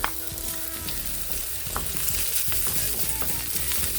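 Garlic and ginger sizzle and crackle in a hot pan for salmon sinigang, with steady frying hiss broken by sharp pops and stirring scrapes, close up and with no voices.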